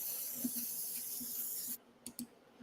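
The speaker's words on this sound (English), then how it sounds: "spray your pan up" Cooking spray sprays onto a 9 by 13 baking pan as a steady close hiss that lasts under two seconds, then stops, followed by a couple of faint clicks.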